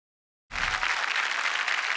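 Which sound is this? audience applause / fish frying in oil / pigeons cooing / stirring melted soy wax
audience applause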